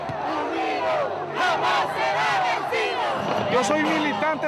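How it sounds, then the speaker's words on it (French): A large crowd at a Sandinista rally for Daniel Ortega in Nicaragua cheers and chants in a loud, continuous roar of many voices. "La foule du grand soir révolutionnaire est venue faire un triomphe au célèbre guérillero Daniel Ortega"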